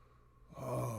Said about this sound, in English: take 5 big breaths in through our nose and out through our mouth